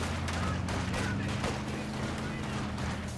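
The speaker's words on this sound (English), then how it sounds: "his machine gun can shoot right into that house" Machine gun fire in the WWII strategy game Company of Heroes 2, set among a row of village houses: a steady, rattling stream of distant shots and battle noise runs continuously beneath someone talking.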